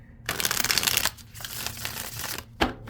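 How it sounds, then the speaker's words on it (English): Tarot cards are shuffled close up in a dense, crisp riffling burst, then softer sliding and tapping of the deck, ending with a quick sharp snap. "Let's shuffle."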